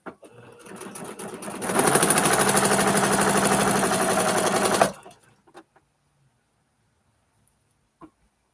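A sewing machine stitches a quilt block with the stitch-and-flip method, a loud steady mechanical whir for about three seconds after a softer start, then stopping abruptly, followed by faint handling clicks.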